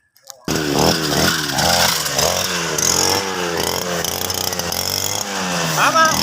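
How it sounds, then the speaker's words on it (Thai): A grass trimmer cutting grass during a village volunteer clean-up at a community hall, its engine starting abruptly and then droning loud and near with fluctuating revs throughout. "ตัดหญ้าไปได้แล้วนะครับ"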